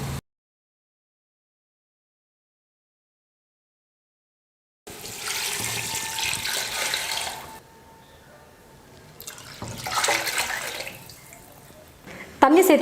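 Water pours into a pressure cooker for mutton biryani in two bursts of splashing, loud and close, separated by a pause, with a brief silence before the first pour.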